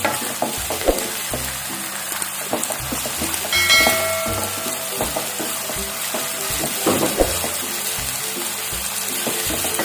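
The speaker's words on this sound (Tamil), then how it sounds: "இப்போ நல்லா இதை பொன்னிறமாக நல்லா ஃப்ரை பண்ணுவோம்" Prawns fry with curry leaves over high heat, giving a steady crackling sizzle with frequent stirring clatters and scrapes, close and fairly loud, with no one speaking.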